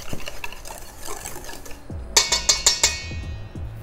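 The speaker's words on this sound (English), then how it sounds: "I've got my flour, my sugar, baking powder, and salt in here. So I'm just gonna give this a quick mix." Dry flour, sugar, baking powder and salt being quickly stirred in a bowl, soft scraping at first, then a run of about six sharp clinks of a utensil against the bowl's side.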